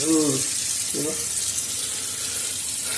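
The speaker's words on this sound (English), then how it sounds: "then I turn the water on, and I put the water in the heat side" Tap water runs steadily into a kitchen sink holding frozen steak, a continuous close hiss and splash with brief speech over the start.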